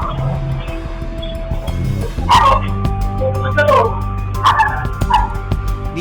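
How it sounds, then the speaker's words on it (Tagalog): A pet dog barks repeatedly in close, loud yips and whimpering bursts at a campsite in a parking lot, with little pause between barks over a low rumbling background. "walang tigil na tumatahol ang aking alaga na si Kopi."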